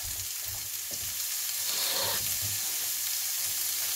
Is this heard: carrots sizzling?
yes